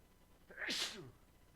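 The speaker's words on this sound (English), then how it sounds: "And I am about to sneeze." A single sneeze, quick and fairly close, with a sharp hissing burst and then quiet.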